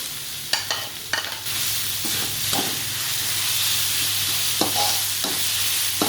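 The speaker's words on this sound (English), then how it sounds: "So what I'll do is I'll just chuck them in and stir fry for a bit." Green chilies stir-frying in a hot pan, with a steady loud sizzle and a few sharp scrapes and clatters from stirring near the start, then continuous frying hiss.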